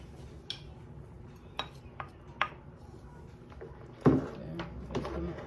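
A spoon stirring and scraping in a pot of seafood palm nut (banga) soup, giving several sharp clinks and one louder scrape against the pot over a quiet kitchen background.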